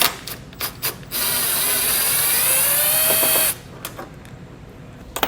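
Ratchet socket wrench with a 10mm socket removing hex-head fasteners at the front of a 2011 Jeep Patriot: a few clicks, a sustained whirring run of about two seconds, then more sharp clicks, close and loud.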